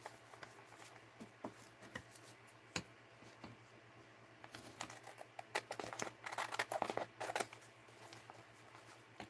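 Scissors cut through paper for a junk journal in a crafting session: quiet scattered snips and crinkles, growing denser and louder toward the end, close by in a quiet room.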